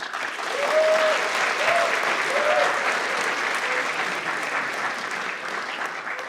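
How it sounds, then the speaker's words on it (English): Crowd applause for the organisers at a hackathon closing ceremony, a dense, steady wash of clapping lasting several seconds with faint cheers or voices woven through it. "Can we have a round of applause for them?"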